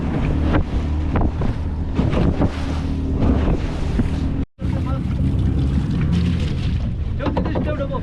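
Boat engine of a fishing vessel far out at sea, a steady low drone under strong wind buffeting and wave noise, with a brief dropout midway; a voice talks over it.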